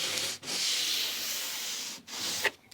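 Sandpaper rubs back and forth over a cedar plank during repair of a cracked lapstrake boat plank, a steady close hiss of long strokes broken by two brief pauses.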